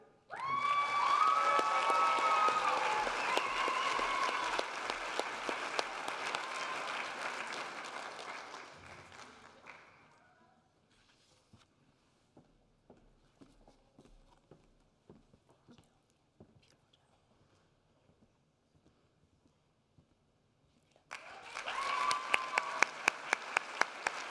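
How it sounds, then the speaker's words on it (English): Applause for graduates at a graduation ceremony: sustained clapping from a large audience for about ten seconds, dropping to near silence with faint sounds, then a fresh burst of clapping at the end. "give one more round of applause for our graduates"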